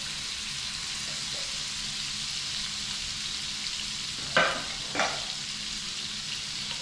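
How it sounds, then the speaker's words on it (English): Fish and shrimp frying together in a pan for a red gravy fish stew, a steady loud sizzle throughout with a couple of brief stirring scrapes near the end, no talking. "We're going to let the fish cook up."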